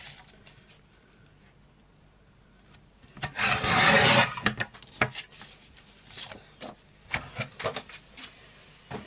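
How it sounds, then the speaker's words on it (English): Scissors cutting excess paper off a folded recycled Christmas card: a run of close, crisp snips and rustles, building to a dense burst of papery rasping, then scattered short snips and crinkles, with no talking. "And then cut off this excess here."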